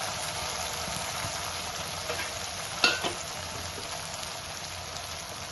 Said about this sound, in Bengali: এরপর এর মধ্যে চিকেনটাকে, ম্যারিনেট করা চিকেনটাকে অ্যাড করব।